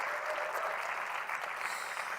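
An audience applauds steadily and fairly loudly for Joy, a dense unbroken wash of clapping throughout with no talk over it.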